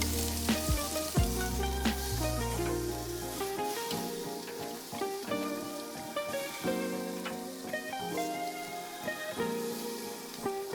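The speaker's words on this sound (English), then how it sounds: "Look at that sizzle." Steak sizzles and crackles steadily on a hot Weber Q barbecue grill, a continuous close frying hiss with occasional pops and clinks of tongs.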